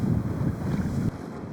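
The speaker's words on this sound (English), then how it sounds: "the wind and the waves were making things difficult" Strong wind buffets the microphone over lapping waves on a remote Northern Ontario lake, heard from a fishing boat, a loud steady rush that drops abruptly near the end.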